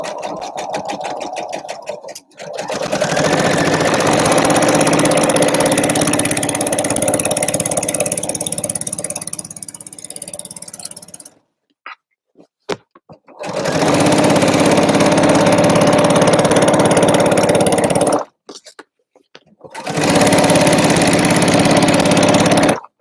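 A sewing machine stitches the side seams of a garment in long steady runs, loud and close, broken by short pauses and a break in the middle before it starts again.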